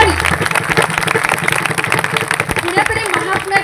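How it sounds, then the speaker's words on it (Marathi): Audience applause, a dense continuous wash of clapping from a crowd at an ashram gathering, steady and fairly loud, with voices mixed in. "एकदा जोरदार टाळ्या वाजवा"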